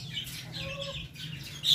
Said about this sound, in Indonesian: Oke, langsung ini penampakan ayamnya ya. Jadi ini ayam betina semua.